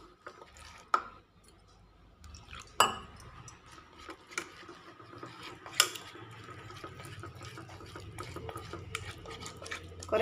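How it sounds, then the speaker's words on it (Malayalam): Batter for a bread and potato snack being whisked by hand in a bowl, with water added bit by bit: soft wet swishing broken by occasional sharp spoon-on-bowl clinks, close and without speech. "ഇനി നമുക്കിത് നന്നായിട്ടൊന്ന് മിക്സ് ചെയ്തിട്ട് ഒരു ബാറ്റർ തയ്യാറാക്കാം."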